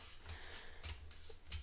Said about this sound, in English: I'm going to take my scissors and I'm just going to run it down